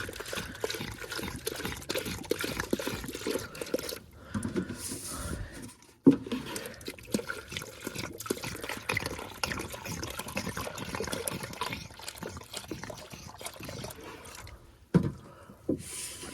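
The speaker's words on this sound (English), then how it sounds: "let's pour some coolant in there, mix it all up with it" Coolant pours into the engine of a 1994 Ford F250 that has a no-crank, no-start problem, a steady splashing, gurgling liquid stream running close by for several seconds with a couple of brief pauses.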